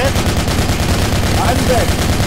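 An M240 machine gun lays down suppressing fire in the military shooter Project Reality during a convoy round on Ramiel, firing a loud, close, continuous burst of rapid shots that fills the whole moment.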